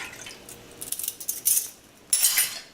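A metal spoon stirs vinegar into milk in a pot, giving light scattered clinks and scrapes that come in short irregular clusters, close and fairly quiet, with no talking.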